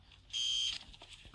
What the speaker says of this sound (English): I hate those stupid alarms.